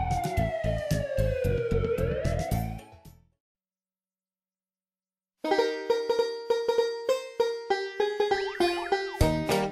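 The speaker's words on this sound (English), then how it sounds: "There's an emergency, the ambulance will be there to help." Cartoon ambulance siren in a kids' app animation, a loud electronic wailing tone that sweeps down and up over a rhythmic beat. It cuts to silence, then returns with bouncy tonal chimes and boing-like sounds.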